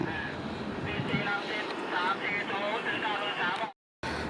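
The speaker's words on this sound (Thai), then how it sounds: "ลมพัดแรงเหลือเกินโยกเยกโยกเยก" Strong wind buffeting the microphone on a railway platform at Bang Sue station, a continuous rushing roar that cuts out abruptly for a moment near the end.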